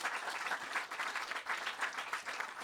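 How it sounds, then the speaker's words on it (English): Audience at a Memorial Day event applauds steadily, a dense wash of many hands clapping at a constant loud level throughout. "Big applause there."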